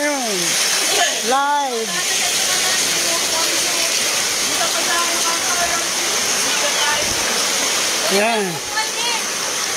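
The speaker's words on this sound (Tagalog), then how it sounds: "Lakas ng alon." Strong sea waves crash in a loud, steady roar of surf that fills the whole stretch, with someone talking over it now and then.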